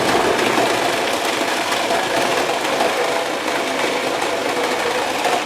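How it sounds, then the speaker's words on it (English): Kitchen mixer running flat out on minced ground chuck, a loud, steady high-pitched motor whine with a rattling vibration that holds unbroken throughout, close by. "what I'm going to do is turn it on full blast and turn the whole machine"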